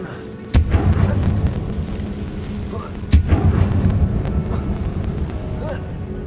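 Two heavy booming blasts from the Confringo spell in a Harry Potter video game, each a sharp loud hit followed by a rumbling tail, set over a low steady game ambience.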